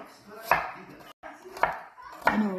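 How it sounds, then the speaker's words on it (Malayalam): A knife chops onion in a home kitchen while a stem dish of elephant ear plant is prepared, giving three sharp, close chops at a steady, unhurried pace with short pauses between them and no talking. "ഒരു മുറി സവോള ഞാൻ അരിയുന്നത് കേട്ടോ"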